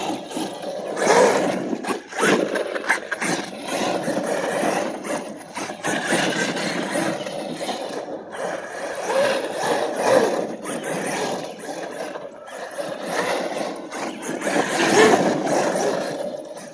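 Machete RC vehicle with a redone gear mesh and new spur gear, running with a buzzing whining drivetrain and motor that rises and falls in bursts, loud and close, with rattling mechanical texture throughout.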